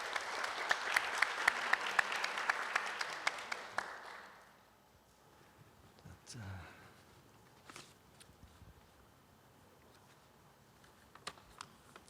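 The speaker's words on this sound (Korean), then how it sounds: "큰 박수로 연단위로 모시도록 하겠습니다." Audience applause at a youth forum session on Jeju sustainability, held on a fifth floor, welcoming a provincial official to the podium; steady clapping that fades out by about four seconds, followed by faint room noise and a few scattered knocks.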